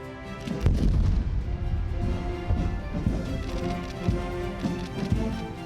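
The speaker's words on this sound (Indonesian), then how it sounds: "Dentuman meriam sebanyak 21 kali turut menandai penghormatan kepada Presiden Prabowo." Cannon rounds of a 21-gun salute boom at a state welcoming ceremony at a royal palace, with several heavy low thuds spaced a second or so apart over a steady band of ceremonial music.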